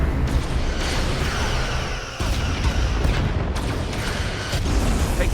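Starship weapons fire and explosions in a Star Trek: Resurgence space battle, a dense continuous barrage of booms and blasts with rumbling low end, steady and loud throughout with a brief dip near the middle.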